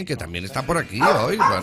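A dog yips and barks in a radio studio, several short barks close to the microphone mixed in with a presenter's speech.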